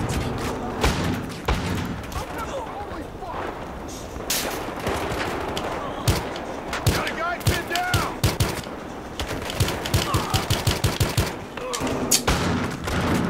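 Rapid gunfire from the Battlefield Hardline video game crackles throughout, dense bursts of automatic shots and single cracks overlapping at mid distance, growing into tight rattling volleys toward the end.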